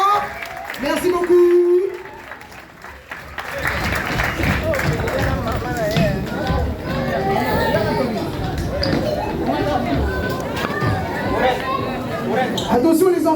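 An audience at a mothers' association gathering applauds the mothers, clapping mixed with lively crowd chatter and voices that continue throughout.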